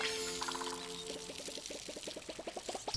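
A watering can pours over crops in the video game Palia, a steady synthetic trickle of water overlaid with a quick run of rhythmic, bubbly plinks, faint and without voices.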